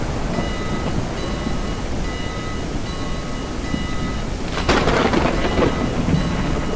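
A thunderstorm in the Railroads Online train game at night: steady heavy rain hisses throughout, then a sharp, loud thunder crack breaks near the end and rumbles on under the rain.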